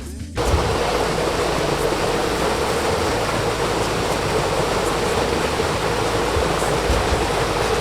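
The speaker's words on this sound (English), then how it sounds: "Oh, Karura Forest Waterfall." Water pours down the Karura Forest waterfall in Kenya as a steady, dense roar with no break, heard close and loud throughout after a brief quieter moment at the start.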